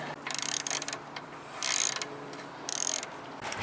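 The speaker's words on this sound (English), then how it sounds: "And then I'll put a ratchet on it." A ratchet wrench tightens the bolts on hitch stabilizing pucks, three clear bursts of rapid clicking, close and fairly loud, with short pauses between.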